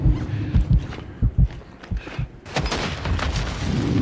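Incoming gunfire in Call of Duty DMZ, heavy thumping shots and impacts arriving in irregular bursts, then a denser rattling barrage building toward the end, loud and close, with no voices over it.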